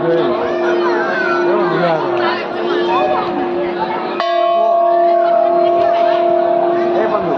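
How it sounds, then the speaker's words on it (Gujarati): A huge temple bell at Galteshwar Mahadev rings out loud and sustained, with a fresh strike midway renewing its hum, over a busy background of chatter and crowd noise. "સાંભળી રહ્યા છો મિત્રો આ ઘંટનો એક અવાજ"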